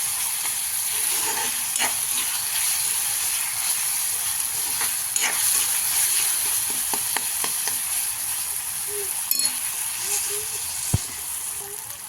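Chopped onion and tomato fry in hot oil, a continuous dense sizzle running throughout with scattered spatters and scraping stir noises close by; a voice is faintly present underneath.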